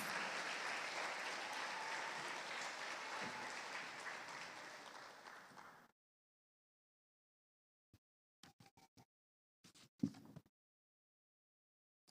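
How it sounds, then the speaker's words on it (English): Sustained audience applause at a primary school graduation ceremony fills the first six seconds, then stops abruptly, leaving silence broken by a few faint scattered claps and small knocks. "Let's give them another round of applause."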